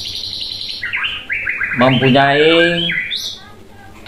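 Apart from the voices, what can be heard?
white-rumped shama (murai batu) singing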